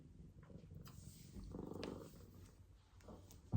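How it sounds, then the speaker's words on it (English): A cat purrs softly and close, a quiet low rumbling that swells briefly in the middle, with a faint bump at the end. "He's very purry though right now"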